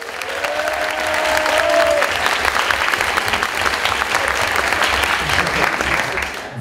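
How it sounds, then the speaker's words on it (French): Steady clapping fills an auditorium at the IAE Lille eloquence competition final as the audience applauds a contestant; a brief whistle rises early, then even, close-packed applause holds to the end. "Faites du bruit également pour Mathilde."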